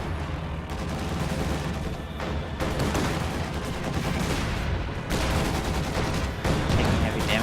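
Soviet DShK heavy machine guns in a World War II strategy game battle: dense, loud, continuous gunfire and rattling bursts layered with distant booms, with no talking.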